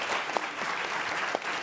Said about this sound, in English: we're just going to keep clapping after every answer